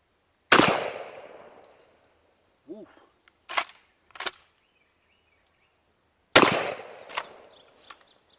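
An old used Marlin Model 43 shotgun fires outdoors at about 15 yards: two loud, sharp blasts roughly six seconds apart, each with a trailing echo, and small mechanical clicks and knocks between them.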